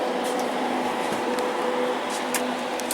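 A banner laminator drive runs with its heated roller, giving a steady, even mechanical hum and whir with faint intermittent ticks, close by and alone.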